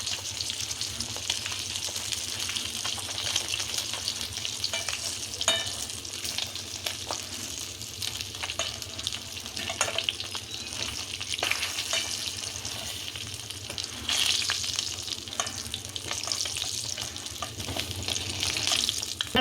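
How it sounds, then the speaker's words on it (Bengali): Fish frying in hot oil in a pan for a Bengali fish curry with cauliflower: a loud, continuous crackling sizzle with scattered sharper pops, close and steady throughout, no talking. "মাছটা ভেজে তুলে নিলাম।"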